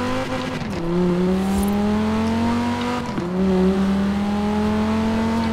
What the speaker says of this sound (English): The engine sounds like a Huracan.